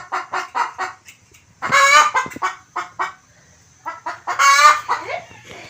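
Chickens cluck and squawk close by in a series of rhythmic calls, with two louder, drawn-out cackles standing out against a quiet yard.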